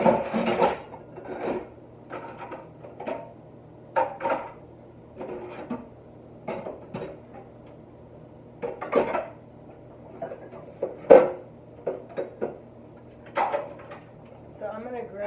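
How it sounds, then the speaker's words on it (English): Freshly washed dishes, bowls and lids clink and clatter in a home kitchen during weekly meal prep, scattered knocks and rattles with quiet stretches between, close by and moderately loud, with a voice talking at times. "I just washed dishes."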